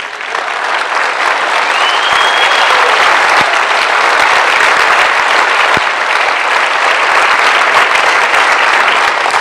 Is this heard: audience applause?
yes